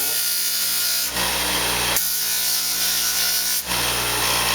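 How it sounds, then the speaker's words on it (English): A flap wheel on a power tool sands and deburrs a small metal finger-shaping tool, a steady close abrasive whir with rubbing grit, cut by sharp brief breaks around one and nearly four seconds; no speech. "I like to use the flap wheel to finish these up"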